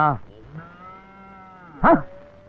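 A cow or buffalo lets out a long, drawn, low moo, followed by a louder, sharper bellow near the end, close and clear with no talk.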